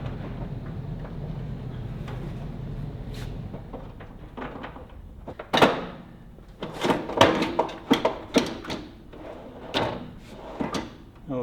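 Drawers are opened and closed with a series of wooden slides and thumps, arriving in uneven, closely spaced bursts over a low background hum.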